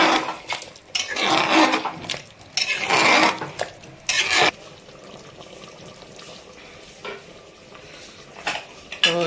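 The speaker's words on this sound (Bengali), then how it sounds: "দিয়ে দিচ্ছি যে সামান্য একটু জল," Water poured into a pot of Bihari-style mutton curry on the stove, giving a few loud bursts of splashing and clatter early on, then a quieter stretch with faint stirring and sizzling.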